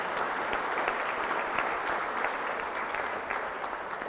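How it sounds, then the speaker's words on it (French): A congregation applauds during a solemn Mass for the feast of Saint Patrick, steady moderate clapping from a crowd in a church that continues evenly throughout. "Nous pouvons vous applaudir vous-même."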